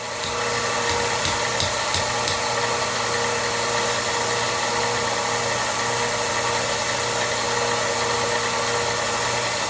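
A steady, loud mechanical hum from an inverter-driven machine motor spun up to raised RPM, running continuously with an even drone and faint rattling texture, no voices.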